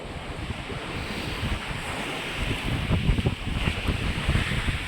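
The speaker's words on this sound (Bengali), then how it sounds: "এদিকে দেখো ঢেউ আছে পুরো।" Sea waves wash continuously onto a beach at Bakkhali, with a steady roar of surf and wind buffeting the microphone.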